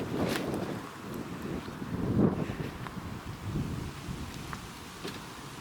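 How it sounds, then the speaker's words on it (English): Gusty wind buffets the microphone in rough, uneven bursts on an allotment garden plot, rising to a stronger blast midway, with no voices. "whoa, it is very windy."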